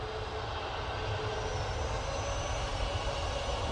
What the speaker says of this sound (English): Looks like we've got a Ryanair 737 MAX 8 coming on right in front of us.